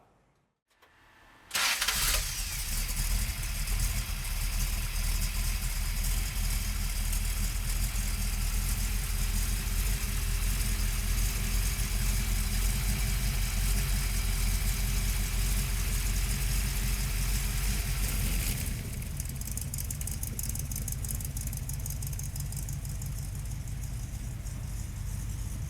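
A 347 stroker V8 in a Factory Five Shelby Cobra replica cranks and catches, then settles into a loud, steady, rumbling idle close by, with a slight drop in level near the end.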